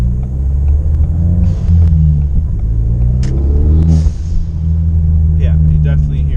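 Ford Fiesta ST engine with a RamAir drop-in air filter, a steady loud low rumble that swells as it revs, with brief whistling turbo-like hisses and a faint voice mixed in.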